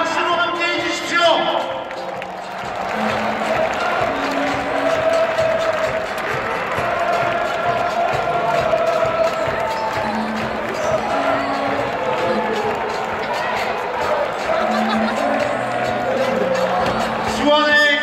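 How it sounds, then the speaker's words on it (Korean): A stadium crowd applauds at a halftime retirement ceremony for a football player, sustained clapping and crowd noise filling the space while an announcer's amplified voice and a Korean-language address carry over it. "이어서 계속 박수로 함께 해주십시오"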